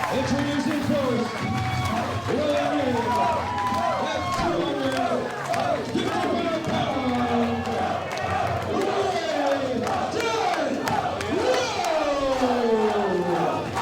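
A wrestling crowd cheers for Ray Rowe at a VIP Wrestling event, a loud, dense roar of shouts and chants that keeps going without a break, with a voice speaking over it.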